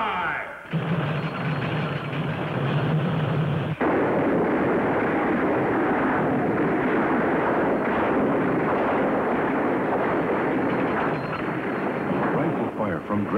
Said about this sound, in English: Rifle fire from Dragon.